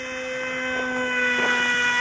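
Tiny electric motor of a micro RC model airplane built for a 2S battery, a steady high-pitched whir with stacked harmonic tones that grows slightly louder over two seconds, heard alone outdoors.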